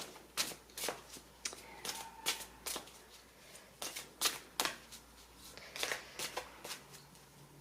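Oracle cards are shuffled during a card reading, giving a quiet series of crisp riffling and flicking bursts in an uneven rhythm, close by with no talking.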